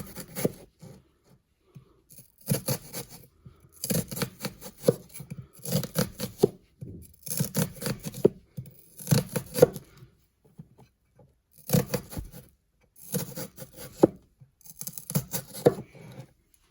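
An onion, root left on, is sliced in half and cut on a board: clusters of crisp knife strokes and thuds recur in bursts with quiet gaps between, fairly close.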